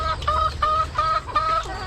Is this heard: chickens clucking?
yes